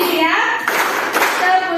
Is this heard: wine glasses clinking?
no